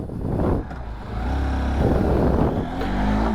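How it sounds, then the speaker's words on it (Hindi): A Bajaj Pulsar N150 or Honda SP160 motorcycle engine cranks and catches, then settles into a loud, close, steady idle with a brief blip of revs. "चलिए अब गाड़ी को स्टार्ट करते हैं।"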